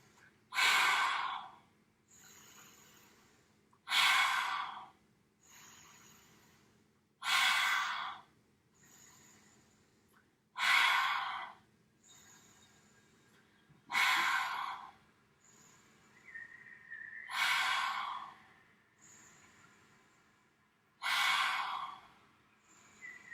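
Deep breaths drawn in and then pushed out forcefully with the tongue out, in a breathing exercise; six or seven loud, close, breathy exhales repeat at a steady slow rhythm with quiet pauses between and no talk.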